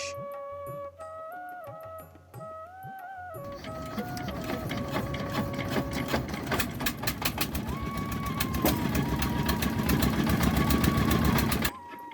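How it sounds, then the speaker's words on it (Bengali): A wooden passenger boat's engine on the Jamuna river starts up after a few seconds of quieter sound, then chugs loudly and steadily with a rapid, knocking rhythm that keeps building. "দক্ষ নাবিক সিফাত ভাই চালাতে থাকলো নৌকা"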